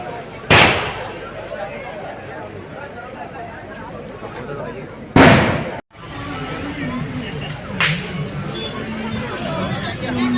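Firecrackers burst at the Parnettu festival of Vellanad Bhagavathy Temple in Kerala, three sharp loud bangs spaced a few seconds apart over a constant murmur of crowd noise and chatter.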